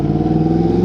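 Motorcycle engine running steadily while ridden on a wet winter road, a loud, even drone with a constant low hum and no talk.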